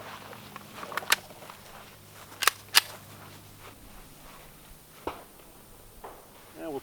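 Sig Sauer P320 X-Ten pistol fired outdoors: a few sharp, loud reports, one near 1 s and two close together around 2.5–2.8 s, then a softer pop, with quiet background between.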